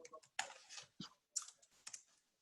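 Keys clicking in short irregular bursts on a computer keyboard as an email address is entered, quiet and close with brief pauses between clusters of taps.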